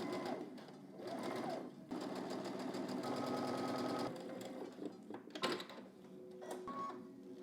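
A sewing machine stitches along pocket bags for baggy trousers, its needle running in close, steady bursts of rapid mechanical chatter with brief stops and restarts.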